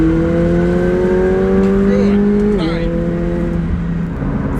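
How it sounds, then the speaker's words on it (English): A modified McLaren 720S engine holding a loud steady rev, its pitch dipping briefly as the gear changes, heard from close by. "Just listen to this engine."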